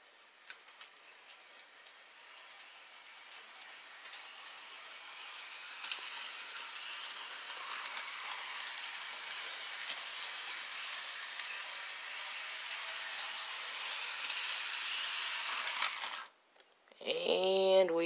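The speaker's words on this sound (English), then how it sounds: "We'll just turn up the speed here a little bit and the train will start moving." A Bachmann HO Pacific Flyer 0-6-0 DC model steam train whirs and rattles along its track, the mechanical buzz growing steadily louder, then cutting out briefly after a derailment before restarting with a few sharp clicks.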